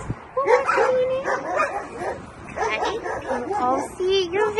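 A shelter dog makes repeated short yips and whimpering barks at close range, mixed with a person talking.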